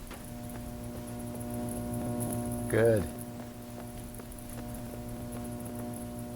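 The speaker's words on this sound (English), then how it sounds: "And we can hear the humming. Follow the cable, it's humming all the way." Steady electrical hum running along a power cable in the Myst VR game, a constant low drone throughout with a brief louder warble in the middle and a short spoken word over it.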